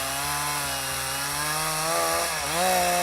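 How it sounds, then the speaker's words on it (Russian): A powerful Stihl chainsaw with a freshly sharpened chain cuts through wood while harvesting kokora timber in the Komi forest near Ukhta. The engine drones steadily and loud at close range, and its pitch shifts and climbs as the cut finishes. "Пила у меня, конечно, мощная."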